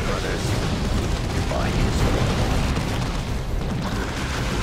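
A rumbling explosion in the video game Dawn of War 2 fills the clip, a dense, loud, continuous roar of battle noise with no clear break.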